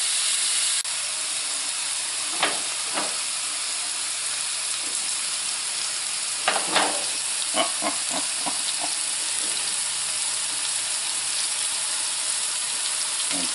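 Beef pinwheels frying in a pan give off a loud, steady sizzle and hiss that lasts throughout, with a few sharper pops and crackles rising over it partway through.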